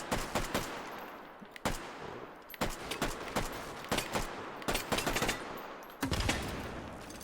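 FAMAS rifle fire in Hot Dogs, Horseshoes & Hand Grenades, heard as repeated sharp bursts of close, loud shots in quick clusters, with brief pauses between strings across the stretch.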